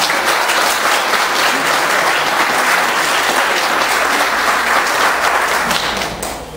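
Dense audience applause at a town-hall style forum, loud and sustained broadband clapping from a crowd, tapering slightly at the end.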